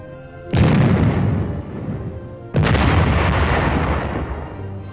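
An M47 medium tank's 90-millimeter gun fires twice, about two seconds apart. Each shot is a loud, heavy boom followed by a long, rumbling decay.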